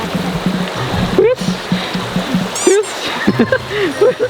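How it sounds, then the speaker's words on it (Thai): A waterfall at Phu Foi Lom rushes and splashes in a steady broadband wash, with people talking and calling nearby over the water. "เนี่ยตรงนี้สวย ดี น้ำตกสวย"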